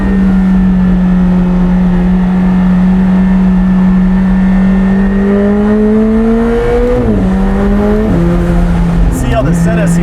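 McLaren 765LT engine holding a loud steady drone, then climbing in pitch under acceleration, with sharp drops at two gear shifts and a rising rev afterward, heard close from inside the car.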